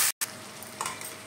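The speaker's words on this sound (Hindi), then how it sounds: "और साथ में ही ये टमाटर डाल दूंगी ताकि इसके साथ दोनों भुन जाए, अच्छे से गल जाए।" Tomatoes frying with spices in a pan for a drumstick curry, a close steady sizzle with light stirring taps, briefly cut to silence near the start.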